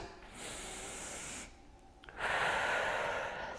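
A senior fitness breathing exercise with a strong exhale during a bicep curl, a long audible breath rush sounding close and alone, after a quieter breath before it.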